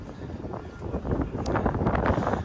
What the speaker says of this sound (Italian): Vediamo se si calma il vento più tardi.